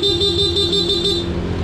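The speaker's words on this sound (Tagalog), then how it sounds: "Stock horn, okay." The stock horn of a Honda ADV160 scooter sounds as one steady, buzzy, high-pitched honk lasting over a second, loud and close, with no voices over it.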